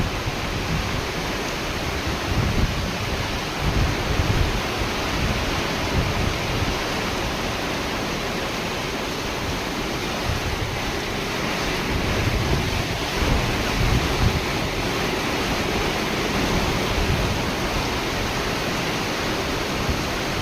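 A strong wind and heavy rain storm roars steadily and loudly throughout, with water flooding past a room; the dense rushing swells in low gusts and never lets up.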